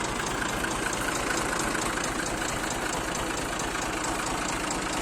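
A 2002 Massey Ferguson 240 tractor engine idles steadily up close, a continuous low diesel chug with a dense rattling texture and no voices over it.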